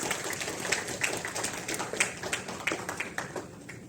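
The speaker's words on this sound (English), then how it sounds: "Please give a big round of applause" Applause from the audience at an inaugural ceremony runs steadily throughout as a dense spread of claps at moderate volume, with no talking over it.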